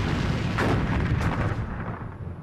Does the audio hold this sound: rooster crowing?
no